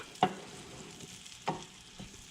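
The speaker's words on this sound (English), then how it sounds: "our butter is almost completely melted, but so the onions are feeling a little hard when they hit the spoon" Onions sauté in melted butter with a low, steady sizzle close by, broken by two or three distinct scrapes of a spoon stirring through the pan.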